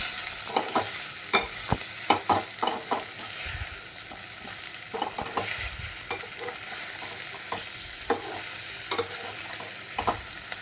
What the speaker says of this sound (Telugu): కలుపుకున్న తర్వాత మనం ముందుగా తయారు చేసుకున్న చామదుంపలను వేసుకుని మంచిగా కలుపుకోవాలి